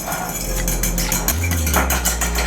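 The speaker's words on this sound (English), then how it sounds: "I'm just using this to scramble my egg" An egg being scrambled in a small bowl, with quick clinking strokes of a utensil against the bowl, close and fairly loud, and a low hum underneath.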